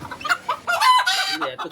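A desi hen clucks and squawks in agitated bursts while held for weighing, loud and close, with short sharp calls breaking into a longer flurry of flapping protest.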